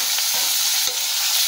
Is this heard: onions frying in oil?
yes